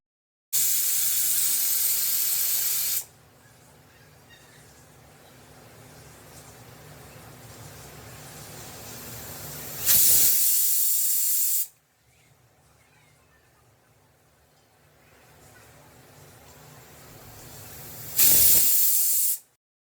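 A pressure cooker lets off sharp, loud bursts of hissing steam, three separate releases spaced apart, with a quieter low rumble between them.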